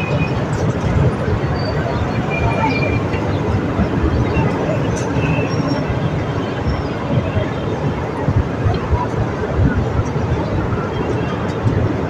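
The Jaffar Express rolling through Kisan railway station in Pakistan without stopping, a loud, continuous rumble and clatter of the train heard from on board, unbroken for the whole stretch.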